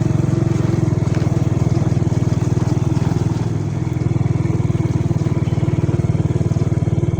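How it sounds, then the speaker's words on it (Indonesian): Several motorcycles riding along a path through gardens toward the beach near a hotel, their engines a loud, steady, close drone throughout with a brief dip midway. "Kita ada 3 motor lain di sini."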